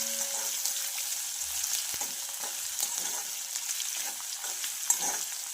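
Chopped ginger, green chili, onion and garlic fry in hot oil for a chickpea usal, giving a soft, steady sizzle with occasional light stirring clinks, heard alone without talk.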